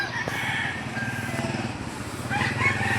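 Chickens at the Lipa livestock auction market, with a crowd of fowl crowing and clucking in a busy, continuous din, some calls near and others further off, under a low steady background rumble.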